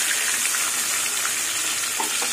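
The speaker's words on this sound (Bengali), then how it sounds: "মাছের মাথাগুলো ভাজা হোক" Fish heads crackle in hot oil in a wok, a close, steady frying sizzle with light popping and a couple of faint utensil touches near the end, and no speech.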